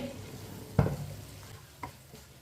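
Aloo tinday vegetable curry being stirred in a pan with the stove off, one soft scrape and thud of the spoon followed by a fainter second stir over a low background hiss, with no speech.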